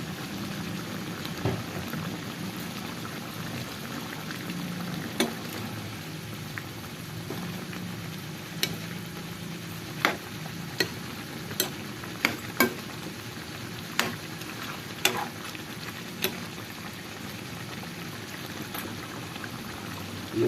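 Adobo simmers in a pot with a steady bubbling sizzle, broken by scattered sharp clicks and scrapes as a spoon stirs against the pot.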